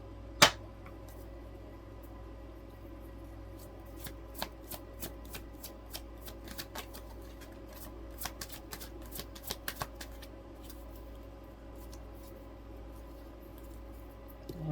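A deck of tarot cards shuffled by hand at close range, with a quiet run of soft riffles and scattered sharper card snaps over roughly fifteen seconds, with no talking.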